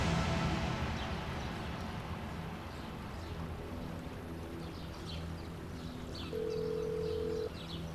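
A telephone call rings out while waiting for pickup: a single steady ringback tone sounds for about a second over a dense, rushing background wash.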